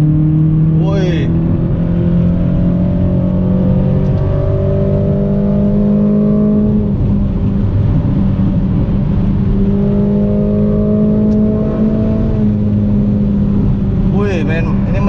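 Rare second-generation Toyota MR2 W20 pulling through long gears at high RPM, its engine drone rising and falling steadily in pitch for the whole stretch, loud and close from inside the cabin, with someone talking over it.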